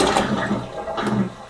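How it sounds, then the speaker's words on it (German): Water from a toilet that was just unclogged drains down the bowl with a brief gurgling, rushing sound, close and fairly loud, with no talk. "Ihr seht, das Wasser ist jetzt schon mal abgelaufen."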